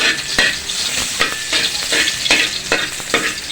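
Fried rice being sautéed and stirred in hot cooking oil in a home kitchen for breakfast, a steady loud sizzle broken by repeated scraping stir strokes roughly every half second, close up with no talking.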